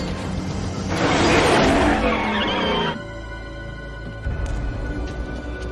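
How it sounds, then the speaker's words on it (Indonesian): Cars race in a car chase from the 1995 film Bad Boys, with loud tire skidding and squealing that swells and then gives way to engine roar and a passing car, close and without talk. "terjadi adu kecepatan antara mobil milik Puse dan mobil milik Marcus"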